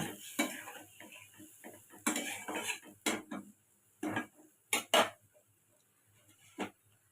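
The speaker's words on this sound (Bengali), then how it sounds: "সব একসাথে ভালো করে একটুখানি নেড়ে চেড়ে নেব" A spoon clinks and scrapes against a pan while fish curry with turmeric, chili powder and salt is stirred, with sharp irregular metallic knocks separated by quiet pauses.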